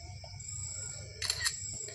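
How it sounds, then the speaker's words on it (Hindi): An Itel smartphone camera fires its shutter while taking a photo, a short, crisp double click near the middle, standing out over a quiet low background hum. "एक फ़ोटो हम थोड़ा सा जो है एक अलग तरह से इसके ऊपर से जाके हम एक क्लिक कर लेते हैं"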